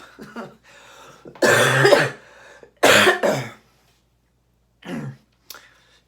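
A person coughs several times with quiet pauses between, two harsh, loud coughs in the middle and softer ones near the end.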